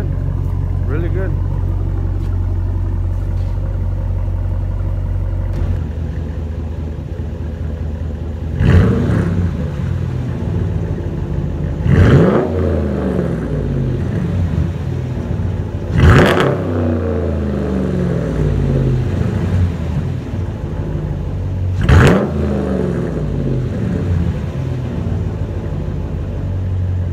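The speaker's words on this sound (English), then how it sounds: "we're gonna let it get warm and do a couple of revs when it's warm." A 2017 Ram 1500 with a Hemi V8 and Carven competitor muffler idles with a deep, steady rumble, then gets four sharp revs spaced a few seconds apart, each rising to a loud bark and falling back to idle.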